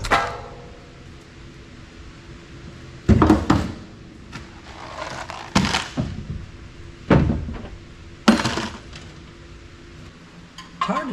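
Metal parts being unscrewed and pulled from a telecom fan base stripped for e-waste aluminum, with several sharp clanks and clatters of loose hardware at uneven intervals over a quiet, close workbench background.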